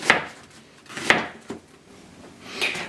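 A knife slices through an onion on a tiny cutting board in a cramped home kitchen, giving three separate crisp chops against the board, the last one softer, with quiet pauses between them.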